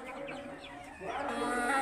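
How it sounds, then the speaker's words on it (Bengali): Pahari hill chickens let loose on the ground cluck softly nearby, a few short, rising calls that grow slightly louder toward the end, with no talking. "এই পাহাড়ি মুরগিগুলো"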